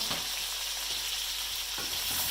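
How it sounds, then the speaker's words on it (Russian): Meat with bones and onion fry in hot oil in a wok, a dense, continuous close sizzle with faint stirring crackles and no talking. "Масло нагрелось, и теперь опускаю мясо."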